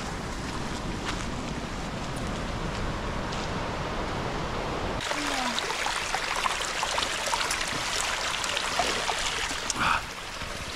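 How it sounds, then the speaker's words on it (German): A wild mountain stream in the Tyrol mountains rushes steadily, a broad continuous roar of flowing water with faint trickling detail on top. "Und überall von kommt da Wasser runter, auch von dort oben, also wilder Bach unten."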